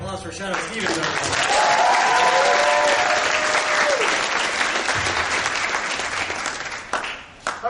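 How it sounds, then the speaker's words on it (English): A Comic-Con panel audience gives a loud, dense round of applause that swells and holds for several seconds, with a few voices rising through it before it tapers off. "Please, one more round of applause for Shadow Stevens"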